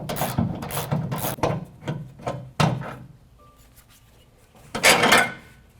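Hand ratchet with a 15mm socket on the rear shock top mount nut of a 2021-2023 Ford F-150, several quick clicking bursts close up, a pause, then another short ratcheting run.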